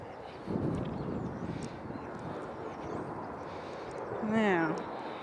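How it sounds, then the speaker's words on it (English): Airplanes flying overhead make a distant, broad roar in windy outdoor air, with a person talking over it and a brief whinny-like sound near the end. "Planes are going over again."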